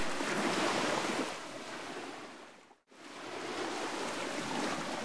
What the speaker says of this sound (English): first you need an ocean.